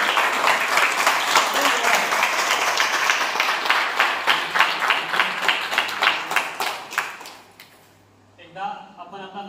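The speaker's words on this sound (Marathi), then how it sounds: "एकदा सरांसाठी जोरदार टाळ्या वाजवायचे।" An audience at an outdoor tree plantation event claps loudly and steadily for several seconds, the rhythmic clapping fading out near the end before a voice speaks briefly.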